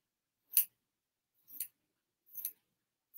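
Scissors trimming a fabric origami brooch, with four crisp, quiet snips spaced roughly a second apart against otherwise silent surroundings.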